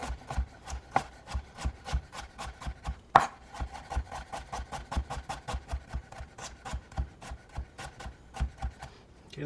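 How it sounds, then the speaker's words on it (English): A knife rough-chopping fresh ginger on a board, a quick, regular run of close, crisp taps that speeds up toward the end, with no talking. "I'm gonna do just a little rough chop"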